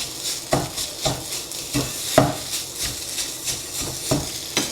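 Fried rice, sticky and wet, is stirred and scraped in a pan at a steady rhythm of repeated strokes over a soft sizzle, close by with no talk.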